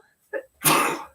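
A single sharp human sneeze, close and fairly loud, preceded by a brief intake of breath, with quiet surroundings.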